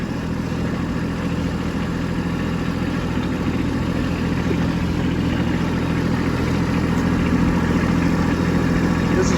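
A Kubota B2601 compact tractor fitted with tire chains pulls a snow plow uphill. Its engine drones steadily and loudly from close by, with a low rumble and no breaks throughout.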